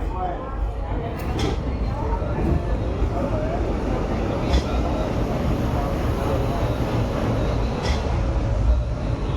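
A passenger train rolls along after leaving Rajkot station, a steady loud rumble of wheels and carriage noise heard from inside a coach, with a few faint clanks.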